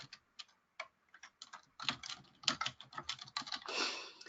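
Typing on a computer keyboard, sparse light key taps at first that quicken into a busier run of clicks, close and quiet with no talk.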